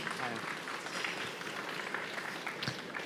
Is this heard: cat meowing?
no